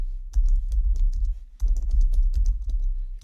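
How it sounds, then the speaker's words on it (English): Fingers typing a prompt on a computer keyboard, a quick run of clicky keystrokes with a brief pause near the middle, close and clear with no talking. "so I'll just type that out"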